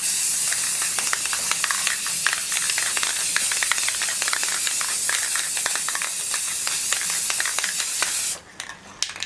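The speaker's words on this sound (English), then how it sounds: "And I'm just going to spray paint the whole thing." An aerosol can sprays paint onto the lid of a choker necklace organizer in one long, steady, close hiss, with faint rattles along the way, cutting off near the end.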